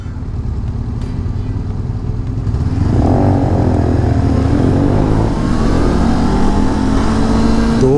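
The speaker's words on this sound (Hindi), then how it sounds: "गर्मियों में थोड़े से बाइकर्स बाहर निकल आए हैं।" Motorcycles of passing bikers on a road outside town, engines droning loud and close, swelling as the bikes rev and roll past without any talk.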